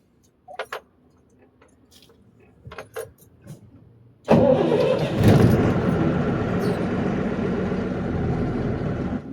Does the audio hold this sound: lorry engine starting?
yes